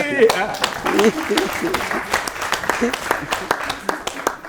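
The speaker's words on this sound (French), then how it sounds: "On l'applaudit." Audience applause on a special Tabaski television show, scattered claps close by, layered with talk and voices through the whole stretch.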